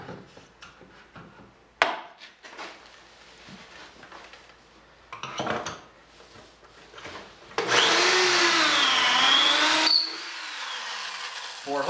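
Power drill boring holes into workbench boards, with short bursts of tool noise and handling clatter, then a loud sustained whine of a few seconds as a bit bites through the wood, close by.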